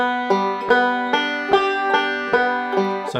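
A banjo plays a hornpipe fill, a quick, lilting run of evenly spaced notes, bright and close, with a short flourish at the end.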